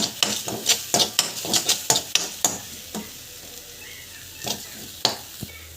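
Turmeric, asafoetida and salt are sautéed in a pan for rasam, with a soft sizzle under a quick run of sharp spoon-scraping strokes that fade to a few sparse taps near the end.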